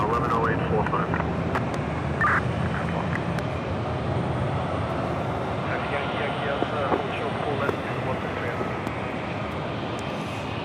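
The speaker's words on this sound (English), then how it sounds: "Got a JetBlue A320 coming at us here." JetBlue Airbus A320 on approach to land at JFK, a moderate continuous engine rumble with faint whining tones, heard at a distance under intermittent nearby talking.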